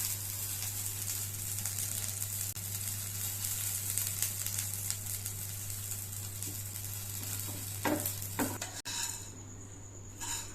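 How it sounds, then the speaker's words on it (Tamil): Turkey berries fry with tamarind in a pan for thuvayal, a steady close sizzle with spoon stirring, then a few utensil clinks near the end, no speech. "புளி போட்டுட்டு லேசாக ஒரு வதக்கிட்டு இப்போது தேவையான அளவு உப்பு சேர்த்துக்கலாம்"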